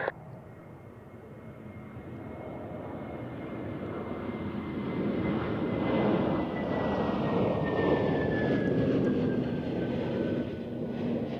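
A jet departing runway 16 at Zurich Airport on a crosswind day, a broad engine roar building from moderate to loud with a sweeping whine as it passes, then holding steady without talk.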